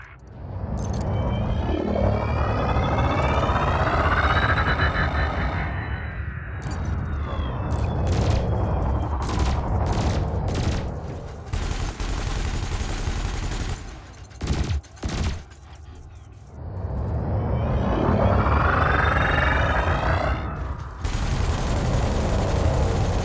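Ship cannons firing in Elite Dangerous, a loud sustained rumbling barrage broken by a run of sharp repeated shots in the middle, then swelling engine-like roar again.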